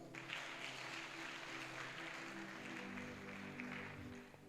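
A church congregation at a worship service applauds together, a steady, fairly distant wash of clapping from many hands that holds evenly throughout with no break.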